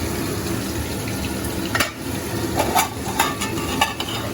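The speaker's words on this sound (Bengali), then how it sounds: "আর এখানে মাছটা ভেজে নিচ্ছি" Fish fries in a pan with a steady, fairly loud sizzle, broken by a few brief clinks and scrapes of a utensil against the pan, close by with no talking.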